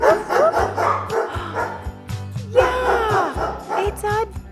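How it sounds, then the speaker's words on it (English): A cartoon dog on a farm barks in a run of quick, bouncy woofs over a musical backing, loud and repeated throughout. "Yeah, it's a dog."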